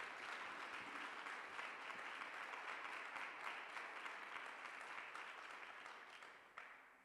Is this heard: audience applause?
yes